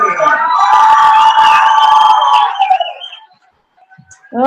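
Crowd at a mixed martial arts weigh-in erupts in loud cheering and shouting for about three seconds, then fades to near silence before a voice starts up at the end.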